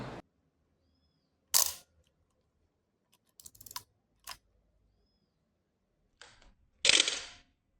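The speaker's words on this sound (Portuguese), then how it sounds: "A DSLR é caracterizada pelo uso de um espelho que se levanta na hora do clique" A DSLR camera fires its shutter as the mirror flips up, sharp mechanical clacks heard several times in near silence, with a few quieter clicks from handling between the louder shots.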